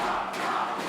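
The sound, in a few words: crowd cheering at an esports match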